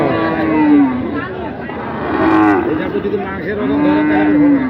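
Cattle low repeatedly at a livestock market where bulls are being sold, three long moos spaced across the moment, loud and close, with market chatter and voices around them.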